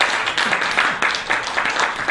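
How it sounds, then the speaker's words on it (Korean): An audience at a lecture in Korea breaks into applause, a dense, fairly loud patter of many hands clapping that continues steadily for a couple of seconds. "박수 한번 부탁드립니다."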